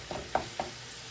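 Kefta frying in a pan with onion and pepper and hot harissa, stirred continuously: three quick scraping stir strokes over a faint, steady sizzle, close and alone.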